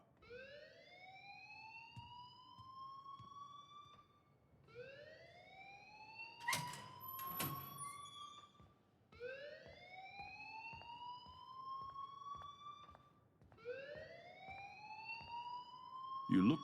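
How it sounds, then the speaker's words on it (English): An electronic alarm in the video game Life Is Strange repeats a rising whooping tone in four steady cycles, with a few knocks and thuds mixed in. "please turn off that alarm since that's your job"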